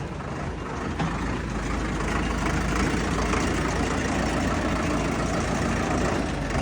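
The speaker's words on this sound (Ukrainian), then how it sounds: "Я ще й запустив двигун" A heavy engine idles steadily with a low, continuous rumble, close by and unbroken throughout.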